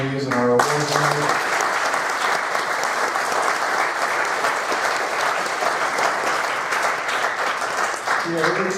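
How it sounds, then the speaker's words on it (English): An audience at a 2016 hall of honor and awards ceremony gives a sustained round of applause for nominees and award winners. Loud, dense clapping runs unbroken for several seconds, with a voice briefly at the start and again at the end. "I'd like one more round of applause for our nominees and our awards winners."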